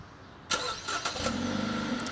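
A 2016 Fiat 500X engine starting by remote start: a quiet moment, then the starter cranks and the engine catches, settling into a steady idle, heard from close by.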